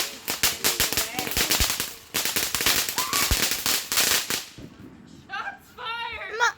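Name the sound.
fireworks exploding on the 4th of July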